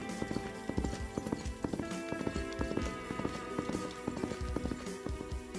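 Rhythmic clip-clop of horse hooves on a hard surface, steady and close, with a busy noisy background.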